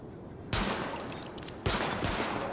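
Sidearm fire at highlighted targets on a weapon test range in The Division: two loud, close bursts of rapid shots, each sharp onset followed by a second of dense gunfire without speech.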